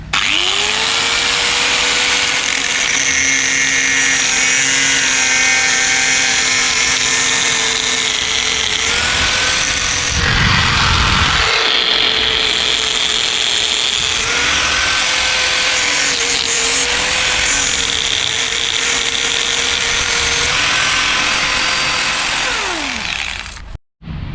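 A power tool cuts a motorcycle handlebar to make room for a meter, grinding loudly and continuously with a high whine that dips briefly partway through before winding down at the end, with no speech.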